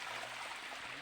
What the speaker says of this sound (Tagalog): Maipo na po ang tubig dito. Running water po ito.